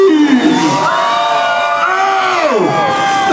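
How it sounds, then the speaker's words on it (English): Crowd at a freestyle motocross show screams and cheers loudly and continuously, a dense wall of shouting voices with whoops rising and falling throughout. "So when he hits the ramp, I want to hear you guys scream."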